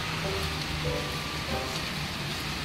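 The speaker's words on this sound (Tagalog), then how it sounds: "buti bumuhos na yung ulan" Heavy rain pours down on an urban street outside a pandesal bakery, a steady dense hiss of drops hitting surfaces that fills the whole stretch, with faint distant murmurs underneath.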